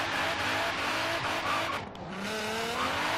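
Nissan 240sx with a slammed JDM drift build in Forza Horizon 3, its engine giving a continuous raspy roar under hard throttle, with tire squeal and a brief dip in revs midway, close and steady.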